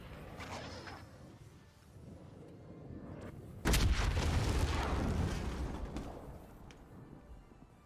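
A precision airstrike in a Call of Duty match lands as a sudden loud, deep boom that rumbles and decays over several seconds, following quieter game ambience.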